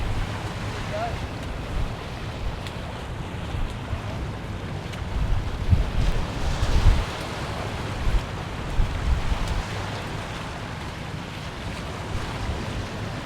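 Indian Ocean surf washing onto the shore near Perth, a steady broadband wash with gusty wind buffeting the microphone and a few louder surges midway.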